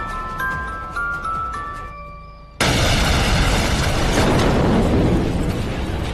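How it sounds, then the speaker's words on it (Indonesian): A bomb explodes in the series Wayward Pines: after a quieter stretch of faint tones and rumble, a sudden loud broadband blast erupts and sustains as a dense, roaring wash to the end. "seketika bom itu pun langsung meledak"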